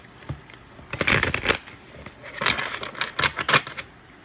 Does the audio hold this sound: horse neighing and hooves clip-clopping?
no